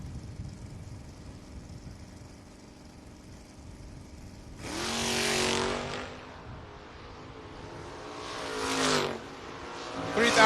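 Footbrake drag race cars, a Nova and a Mustang, launch down the strip. After a quiet, distant rumble, two loud bursts of engine roar rise and fade as they accelerate away.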